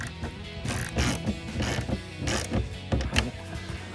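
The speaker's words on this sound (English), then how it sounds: "now I'm gonna take the ratchet and tighten them all" A hand ratchet tightens the mounting bolts of a third brake light on a 2015-2018 Mustang, giving bursts of quick clicking pawl ticks with short pauses between strokes, close by and fairly loud, with no talking.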